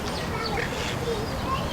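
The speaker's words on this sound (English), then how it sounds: "they have ducks lying all around" Ducks in a park in Seville quack faintly and briefly amid outdoor ambience.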